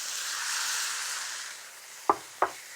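Crushed canned tomatoes sizzle in a pan for a lamb chop curry, a soft steady hiss ending with two sharp knocks of a utensil against the pan.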